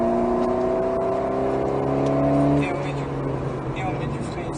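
An Alpine A110S with 292 hp accelerates hard on the Nogaro circuit, its engine note climbing steadily then dropping at a gear change, close and loud, with a driver speaking French over it.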